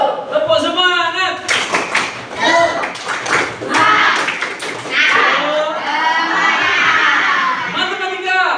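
A classroom of students performs a rhythmic spirit clap, sharp patterned hand claps mixed with children's voices chanting and shouting along, loud and close.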